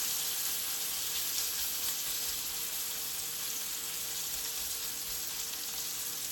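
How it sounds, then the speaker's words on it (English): A ribeye steak sizzles in butter in a hot pan, a steady, dense hiss of frying that holds evenly throughout without talk. "So when I lay this side on, you're going to hear that sizzle."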